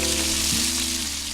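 Blackthroat seaperch, a very fatty fish, sizzles steadily while pan-grilling as if lightly fried, a close, loud, continuous crackle with no talking.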